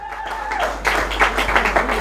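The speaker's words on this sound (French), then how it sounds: "sous vos applaudissements. Applaudissez." Gala evening audience applauding an honoree, a short burst of clapping that swells after a spoken introduction, with voices over the claps.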